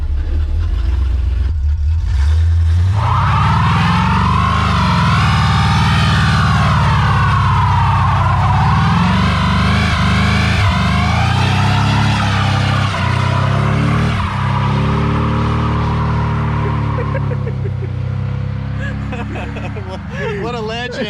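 Engine of a 1929 Ford Roadster hot rod revving hard during burnouts, a loud sustained roar rising and falling in pitch, with people talking over it throughout.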